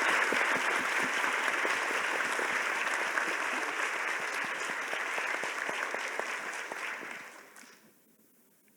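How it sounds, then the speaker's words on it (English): A conference audience at a summit plenary applauds its panel with a dense, steady round of clapping from many hands, which holds for about seven seconds before fading out into near silence. "Let's everyone give our panel a really warm round of applause."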